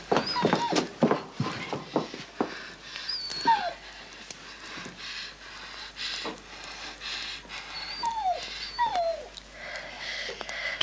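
A poisoned dog whimpers and whines in thin, rising cries scattered across the span, some close and some fainter, with scuffling movement and sharp knocks between them and no talking.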